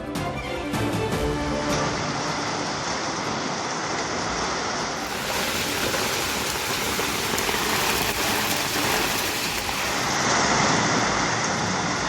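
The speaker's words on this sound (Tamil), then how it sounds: "கோவை மாவட்டம் வால்பாறையில் ஆலங்கட்டி மழை." Heavy hail and rain pour down in Valparai, a dense, constant roar of drops hammering surfaces with no pauses throughout.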